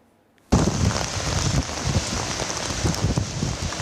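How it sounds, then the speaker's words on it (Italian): Steady heavy rain and gusting wind pound a surface at Ponte della Priula in the Treviso area, starting abruptly and holding as a dense, close, continuous hiss and patter throughout. "vento e pioggia non hanno dato tregua"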